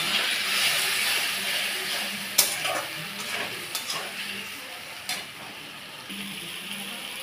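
Fried pointed gourd and potato being sautéed with spice paste in a pan, a loud steady sizzle and hiss with scattered sharp clinks of a spatula stirring, fading slightly over time.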